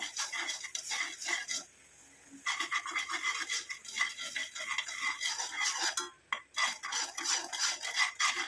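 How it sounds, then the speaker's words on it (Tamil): Scraping, rasping stirring in a pot, a spoon working through a thick curry leaf hair dye paste in uneven strokes with a couple of short pauses, close up. "நல்லா கலந்து விட்டுக்கோங்க"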